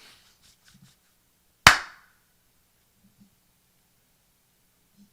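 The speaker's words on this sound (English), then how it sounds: "You can clap again." A single sharp hand clap, close and loud, standing alone in a quiet room with a quick decay and only faint murmurs around it.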